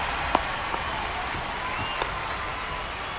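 A baseball stadium crowd in MLB The Show 25 roars after a hit, a steady hissing wash of cheering and applause with a few faint sharp claps above it.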